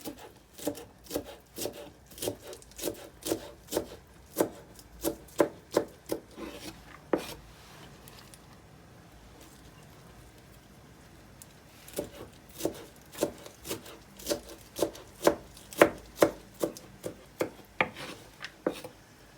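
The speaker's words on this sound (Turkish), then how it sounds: "Ben de semizotlarını ıspanak doğrar gibi şöyle incecik doğradım." Steady rhythmic knife chopping of purslane finely on a cutting board, quick crisp taps in runs with a pause midway, no talking.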